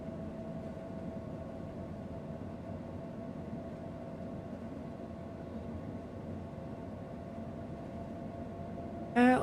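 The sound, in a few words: night train running over a mountain pass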